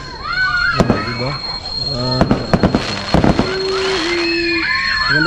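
Fireworks go off near where a band is playing, giving several sharp bangs and crackling bursts, some in quick clusters, amid crowd noise, horn-like tones and people talking.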